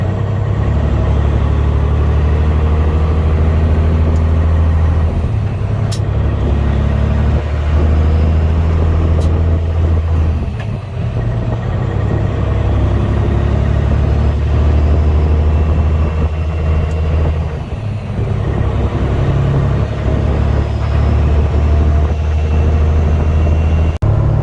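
Truck engine warming up on a morning before driving off: a loud, steady low rumble runs throughout with no pauses, and a constant drone with faint higher mechanical whine sits on top.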